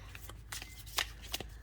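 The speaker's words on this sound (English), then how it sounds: "so maybe I'll just shuffle again" Tarot cards being shuffled by hand, a few soft riffling bursts close up, quiet and irregular with short pauses between them.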